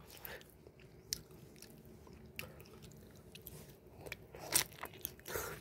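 Someone bites off and chews kimchi with their teeth, close up, giving a string of crisp, wet crunches and squishy chews at an uneven pace, with several louder bites near the end.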